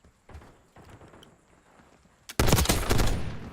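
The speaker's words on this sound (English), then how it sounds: "I have a machine gun" A machine gun fires in Call of Duty. A few soft thuds and faint footsteps come first, then a sudden loud, rapid burst of close automatic fire takes over for the final second.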